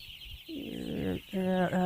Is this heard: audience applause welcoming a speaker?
no